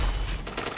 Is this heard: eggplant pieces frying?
no